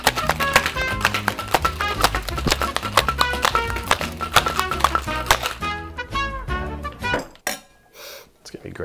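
Ice rattles hard inside a cocktail shaker in a fast, steady rhythm for several seconds while a Walking Stick cocktail is mixed, then the shaking slows and stops.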